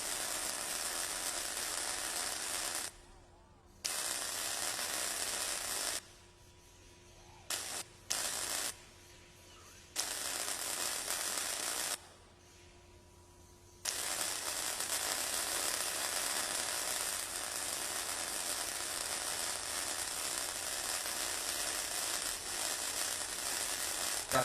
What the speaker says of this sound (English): we're going to want to weld along the seam